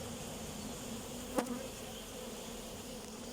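Bees swarm around an opened beehive, a steady droning buzz filling the air throughout with one brief louder insect pass close by midway.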